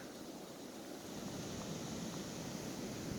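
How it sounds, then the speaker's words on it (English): Strong blizzard wind roars steadily outdoors, a dense broadband rush with no letup, building slightly midway. "Wind's really picking up."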